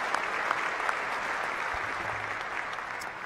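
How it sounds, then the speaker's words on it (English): A large audience at a university event gives sustained applause, a broad, even roar of many hands clapping at once, heard from a distance in a big room with no talk over it. "That deserves a round of applause."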